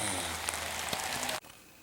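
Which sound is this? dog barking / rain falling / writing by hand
rain falling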